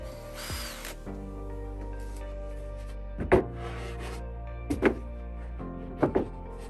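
A 3.5mm screw driven into a PEANUT jig by a power driver: short bursts of whirring and ratcheting clatter in three separate runs, close and fairly loud, against a low background hum.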